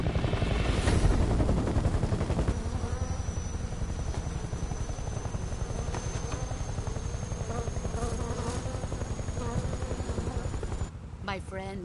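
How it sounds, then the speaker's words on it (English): A helicopter in the video game Metal Gear Delta sets up a dense, steady rotor drone that fills the whole stretch, with other game sounds layered over it and a brief dip near the end. "Chopper."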